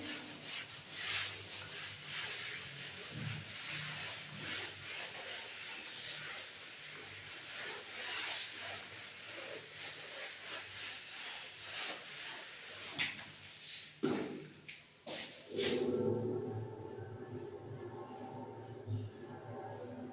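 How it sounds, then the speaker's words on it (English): Something is rubbed across a board to wipe a chemistry drawing off: soft, repeated brushing and rasping strokes, fairly faint and continuous, with a few sharper scuffs and knocks toward the end. "I just rub this drawing"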